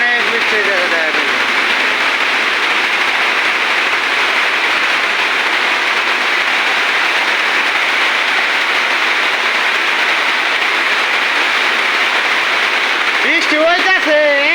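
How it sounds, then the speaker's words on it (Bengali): Heavy rain pours down steadily on a village, a dense loud hiss that holds evenly throughout, with a voice briefly heard near the end. "দেখেন আমাদের এলাকায় প্রচন্ড বৃষ্টি হইতেছে, কিচ্ছু দেখা যায় না"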